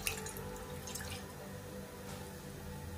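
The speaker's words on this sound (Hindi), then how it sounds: "इसमें मैं अब पानी डालूंगी एक गिलास" A glass of water pours into a pan on a gas stove, readied for boiling pasta, making a steady, close splashing and trickling that lasts about three seconds with no talking.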